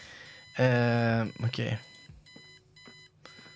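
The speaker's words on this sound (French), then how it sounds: "On va éteindre le réveil, qui est lourd" An alarm clock in the adventure game Kathy Rain rings in loud repeated electronic bursts, then shorter beeping pulses, with a brief spoken word between them.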